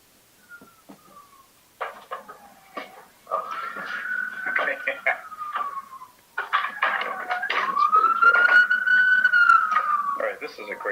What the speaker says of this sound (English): this is a great start already with the sirens in the background